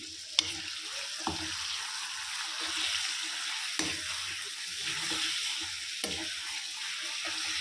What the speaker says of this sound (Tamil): இப்போது சிக்கனை நல்லா பரட்டி விட்டுக்கலாம்.